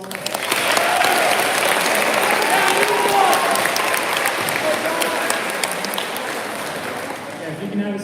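A school awards ceremony audience gives a steady, full round of applause that fills the room for several seconds, then slowly thins toward the end.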